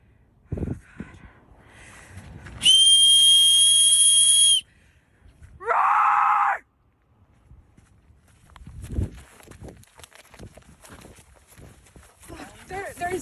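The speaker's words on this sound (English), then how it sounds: "Whistles don't work." A shrill whistle blows in one long sustained blast, followed by a second shorter, lower-pitched blast, outdoors in bear country, with footsteps and talking around it.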